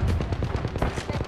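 Rapid automatic gunfire from Apex Legends, a loud, dense stream of shots firing in quick succession, close and continuous, with no talking.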